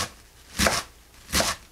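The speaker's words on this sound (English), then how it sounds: "chopping through it. You do want it chopped up very fine." A sharp knife chops through bunched parsley on a cutting board for tabbouleh, two separate quick bursts of crisp chopping about a second apart, close and clear.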